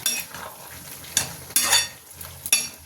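Boiled potatoes with spices are stirred and fried in a pan for a banana flower ghonto with prawns: a spoon scrapes in a few strokes over a steady sizzle, close and fairly loud.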